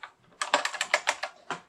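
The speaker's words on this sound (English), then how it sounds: "I apologize for my clicky keyboard." Rapid clicky computer keyboard typing, a quick burst of close, crisp keystrokes heard alone.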